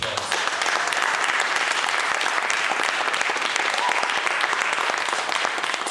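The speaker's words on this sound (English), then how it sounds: "Get that brother another round of applause" A seated audience at a panel talk on Malcolm X and radical education gives a sustained round of applause, loud, dense and even throughout.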